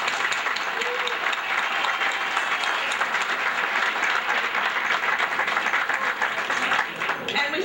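A crowd at an awards ceremony applauds Mr. Coleman with sustained, dense clapping that holds at full strength for several seconds before tapering off near the end.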